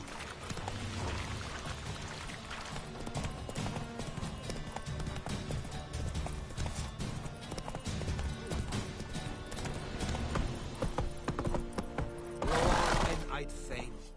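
The horse Roach clip-clops along in The Witcher 3, its hooves beating a steady, continuous rhythm under other game sounds and voices.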